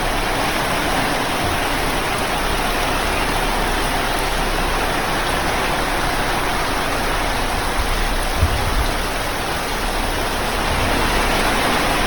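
Heavy rain pours down steadily on a campsite at night, a dense, loud, unbroken roar with no voices over it.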